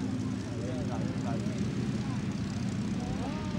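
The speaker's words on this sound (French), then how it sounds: "Voilà, décollage du Bristol Blenheim." A Bristol Blenheim twin-engine propeller plane takes off at an airshow, a continuous moderately distant engine drone under a commentator's voice.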